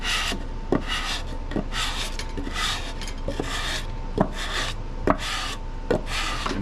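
A warped John Deere X540 mower cylinder head is sanded by hand on 150 grit sandpaper, with rhythmic back-and-forth scraping strokes and occasional light knocks, close and fairly even in level.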